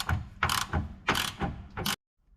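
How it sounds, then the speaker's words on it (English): Ratchet turning a bolt on a corroded subframe of a Nissan Qashqai during wishbone suspension arm removal, a few close rhythmic bursts of clicking pawl, then it stops. "It's better that you tackle this with a ratchet anyway, just so that you can feel the threads"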